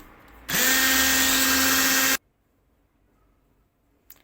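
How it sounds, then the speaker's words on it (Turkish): A loud, close electric mixer whips cream at a steady high pitch for under two seconds, then cuts off into near silence. "Tekrar çırpıyorum."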